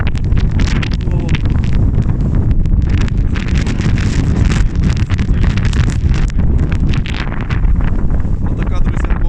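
Furious blizzard wind in a snowed-in yard in Dnipropetrovsk oblast, buffeting the microphone with a constant loud roar and gusty rumble for the whole stretch, no let-up.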